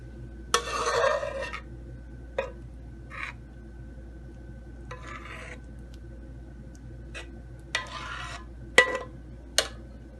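Rabri kheer being dished out into a serving dish: scattered scraping and clinking of a spoon against the pot and dish, several brief bursts with gaps between them, fairly close over a low steady hum, with no talking.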